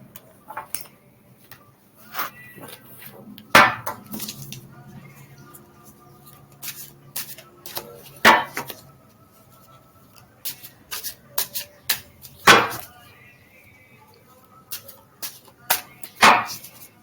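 Tarot cards are shuffled and pulled: scattered soft rustles are punctuated by several sharp, crisp card snaps at irregular intervals, close and clear.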